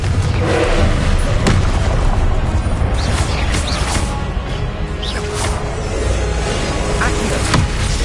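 Spell blasts from Hogwarts Legacy gameplay: a dense, continuous barrage of booming impacts, crashes and whooshes, loud and layered with game music and effects throughout.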